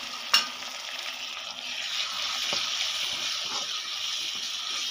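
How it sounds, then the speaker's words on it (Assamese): Chopped tomatoes sizzle steadily in a hot pan with oil, a continuous frying hiss. A sharp clink sounds at the start, and faint stirring scrapes follow under the hiss; no talking. "এতিয়া আমি বিলাহীখিনি ইয়াত দি দিম বিলাহীখিনি এতিয়া ভাজি ল'ম"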